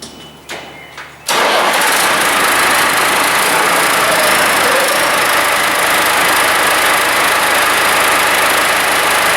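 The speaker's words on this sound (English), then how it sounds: "let's see if I can start the tractor without actually having to undo the ejectors" A McCormick CX95 tractor's diesel engine cranks briefly after a fuel filter change, then catches and roars into a loud, steady idle that continues close by without letup.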